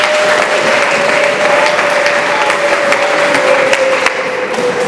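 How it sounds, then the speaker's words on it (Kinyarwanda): Steady, loud applause from a church congregation during a morning worship service fills the whole stretch, with a sustained held tone running beneath it and no speech. "Tugushimiye tugukomera amashyi n'imbabazi zawe."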